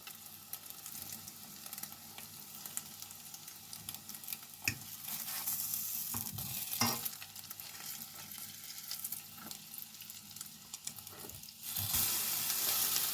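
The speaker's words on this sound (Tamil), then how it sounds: "இப்படி எல்லா பக்கமும் சுற்றி பிரட்டி எடுக்கணும்." Egg-coated bread fries in a pan with a constant crackling sizzle, broken by occasional clatters and louder surges as the slices are turned.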